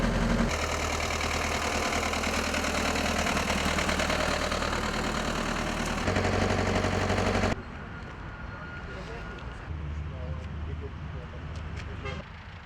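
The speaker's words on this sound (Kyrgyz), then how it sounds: "Ушул трактор" Tractor engine running near the microphone in a botanical garden setting, a steady droning idle with harmonic hum that drops to a quieter, rougher idle partway through, with speech over it.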